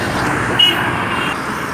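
Road traffic rumbles steadily as cars pass and turn, with a brief high toot partway through and no clear voices.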